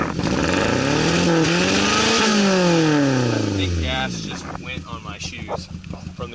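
A Toyota Corolla with an aftermarket exhaust revs hard, its pitch climbing and falling in a loud sweep before settling to a rough idle, with some voices underneath.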